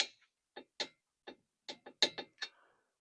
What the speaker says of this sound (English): I'm just going to torque it down and put the cotter pin in.